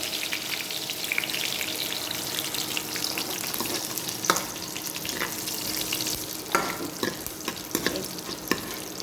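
Curry leaves fry in hot oil for besan kadhi with a steady, crackling sizzle, close by. Occasional sharper pops and stirring clicks stand out over the continuous frying.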